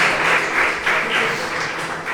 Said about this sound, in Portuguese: Aplauda o Senhor. Aplauda al Señor.